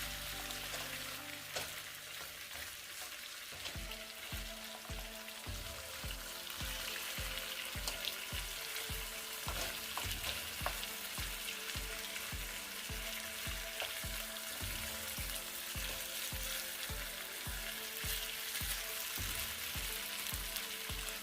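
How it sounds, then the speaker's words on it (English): Lamb pieces frying in a pan for a curry, a steady close sizzle with a dense crackle and rapid regular popping that continues throughout, no voices. "you wanna make the lamb fry on either side for 15 minutes"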